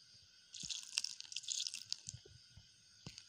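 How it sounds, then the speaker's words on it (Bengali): Water trickles and drips into thick mango cake batter in a mixing bowl, a quiet, uneven stream of small splashes and liquid patter lasting a few seconds, with a few soft low knocks. "এবার এর মধ্যে একটু জল দিয়ে দিচ্ছি।"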